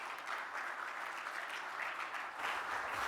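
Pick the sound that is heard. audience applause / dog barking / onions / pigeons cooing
audience applause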